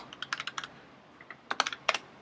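Quick, crisp keystrokes on a computer keyboard while a terminal command is entered, a short burst of clicks followed by a pause and then a few more taps, close and distinct with no voice.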